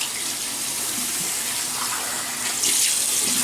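A tap runs steadily into a sink as water is used to wet a week-bearded face before shaving, close and continuous, with the flow growing slightly stronger near the end.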